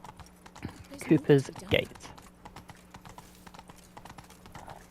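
Horse hooves clip-clopping as a rider travels through the central area in The Witcher 3: Wild Hunt, Blood and Wine, a steady rhythmic trot heard under a voice.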